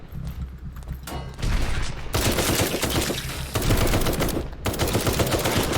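Rapid bursts of video game gunfire from a zombie survival game, loud and dense automatic volleys running nearly the whole time with brief breaks between strings of shots.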